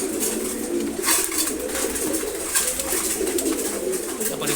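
Racer pigeons feeding in the morning coo steadily in a low rolling chorus, with several birds overlapping nearby and a faint crackle of pecking and movement throughout.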